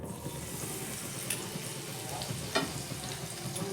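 Battered omelette pieces frying in hot oil for a savoury snack, a steady broadband sizzle with occasional sharper pops and bubbling, close and fairly soft, with no talking.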